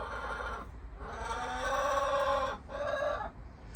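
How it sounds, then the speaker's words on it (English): Hen clucking loudly and steadily in a backyard coop while laying an egg, three long bursts of throaty, rising cackles with brief pauses between them, close to the microphone with no talk over it. "Miss Sparkles is in there laying an egg"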